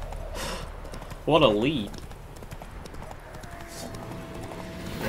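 Roach, Geralt's horse in The Witcher 3: Wild Hunt, clip-clops with rhythmic hoofbeats under someone talking, joined by a brief loud whinny-like burst early on.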